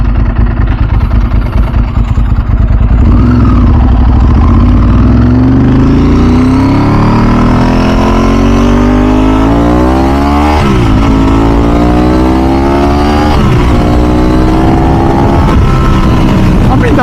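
A Ducati 996 SPS motorcycle engine accelerates hard, revs climbing steeply through repeated gear changes with brief dips between pulls, loud and close with strong wind rush over the whole run.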